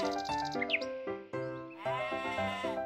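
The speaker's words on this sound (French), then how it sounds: "Il était une fois une vieille chèvre." Close, loud goat bleats come in several quivering, drawn-out calls, one after another, with a short high squeak partway through.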